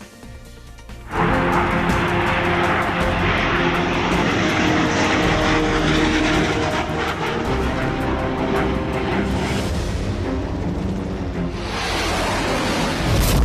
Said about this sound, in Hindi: लाइन ऑफ एक्चुअल कंट्रोल यानी LAC पर भारतीय वायुसेना के विमानों की उड़ान